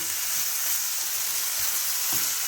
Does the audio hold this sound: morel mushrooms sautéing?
yes